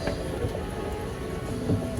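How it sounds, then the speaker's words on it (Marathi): A metro train rumbles past through a station in Dubai with a steady low roar and mechanical clatter, moderately loud and continuous, with no voices. "बघा मेट्रो गेली"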